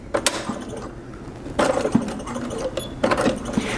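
A sewing machine stitches in three short bursts, a quick mechanical whirring with brief pauses between runs, heard up close.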